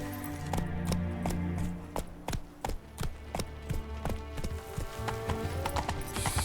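Roach the horse trots along in The Witcher 3, hooves clip-clopping in a steady, distinct rhythm over a low ambient game backdrop, with no one talking.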